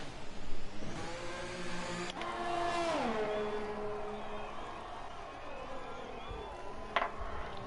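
An F1 racing car engine on an out lap in a Vietnam Grand Prix video game race, a steady droning whine that drops in pitch and then holds, with faint crowd noise in the background.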